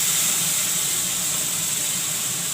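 Barbatti and potato fry in masala in a pan, giving a steady close sizzle and hiss with no talk over it.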